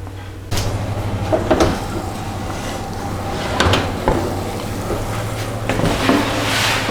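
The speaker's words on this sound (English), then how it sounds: "So these chips are now going to go into the oven for about 20 minutes." Oven door closing after a tray of salt and chilli chips goes in, a few dull thuds and clunks over a steady low kitchen hum, fairly close.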